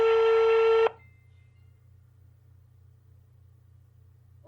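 A telephone tone sounds for under a second while a phone call is placed, then cuts off, leaving only a faint low hum and a brief blip at the very end.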